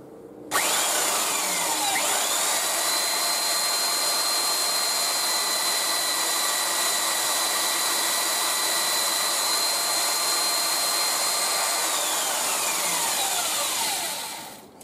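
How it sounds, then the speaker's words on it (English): Belt sander set upside down on a floor runs continuously, spinning up, holding a steady high whine while a wooden hammerhead is roughly shaped against it, then winding down. "this is just my belt sander"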